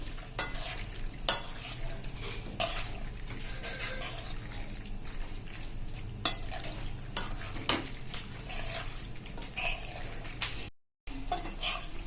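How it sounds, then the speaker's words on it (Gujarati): Macaroni pasta stirred into a bottle gourd vegetable gravy in a pot, with repeated soft scraping and clinking strokes of a spoon against the pan over a low, steady background. "અને એને પણ આપણે ગ્રેવીમાં સરસ મિક્સ કરી લેશું."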